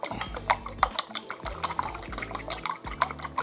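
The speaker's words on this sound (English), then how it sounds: "get these eggs cracked in here, and we'll give them a good whisk" Eggs whisked in a bowl for a sausage omelette, the whisk clattering quickly and rhythmically against the bowl sides in a steady run of bright, close taps with no talk.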